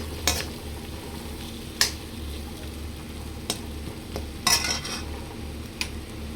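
Fried dry fruits being stirred into a cashew chicken curry in a pan: a low steady bubbling simmer, broken by a few sharp spoon clinks and scrapes against the pan, close by and without talk.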